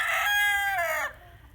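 A bantam rooster crows once, close and loud, a single drawn-out call that fades at the end with no voices.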